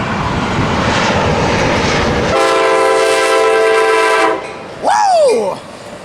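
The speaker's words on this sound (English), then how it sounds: "6905 sounds as good as ever." Coaster commuter train led by locomotive 6905 passes with its diesel roar, followed by a sustained loud multi-tone horn, then a brief falling whoosh after a short lull.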